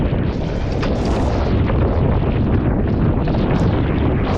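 Strong wind roars steadily across the microphone while sailing an RS600 dinghy on a short training course, a loud continuous buffeting rush with gusty surges and no speech.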